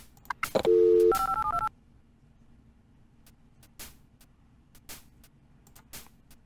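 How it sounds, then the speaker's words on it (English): Telephone dialing tones in the Carmen Sandiego video game, a quick burst of sharp touch-tone beeps followed by a short stepped melodic sequence, loud and alone before fading into quiet background hiss. "Dial up CrimeNet."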